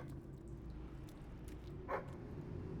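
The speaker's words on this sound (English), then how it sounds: "Dog, I hear you barking, but I don't see where you're at." A dog in the video game Fable III gives a single short bark near the two-second mark, moderately close and set against a steady low game ambience.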